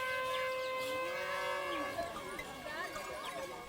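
Cattle gathering at a traditional ceremony moo in drawn-out, wavering calls, several overlapping at a moderate distance over a low steady background, with no speech.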